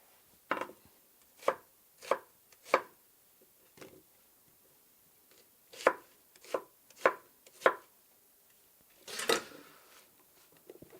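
Onions chopped on a board for Spanish tapas, a knife striking in about a dozen separate, well-spaced chops, close and clear against near silence.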